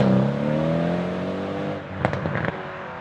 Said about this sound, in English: You can hear the rumble from the exhaust.